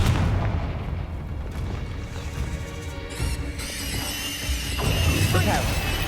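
Confringo blasting spell in Hogwarts Legacy, booming fiery explosions with rumbling low impacts and crackling debris under game sound, fairly loud and continuous.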